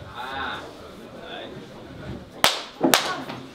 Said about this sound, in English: when I clap my hands, I need y'all to clap your hands at the same time